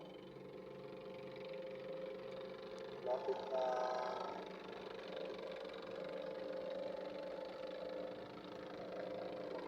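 Small boat engine running on a delta, a steady mid-pitched motor drone heard throughout with a brief whine and knock partway, while people talk over it.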